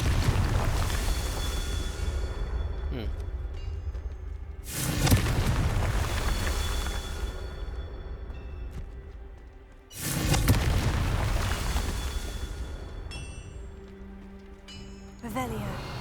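Confringo spell explosions in Hogwarts Legacy, two heavy booms spaced about five seconds apart, each with a sharp onset and a rumbling tail, over steady game ambience.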